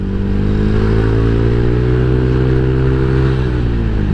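Honda Vario 150 eSP scooter fitted with BRT carbon exhaust valves, its engine held at a steady, deep, throaty drone that rises slightly in pitch, loud and close throughout with no talking.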